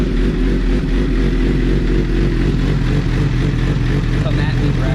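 A motorcycle engine runs steadily nearby after reassembly, a continuous loud low rumble with a slightly rough, breaking-up tone and faint talk underneath.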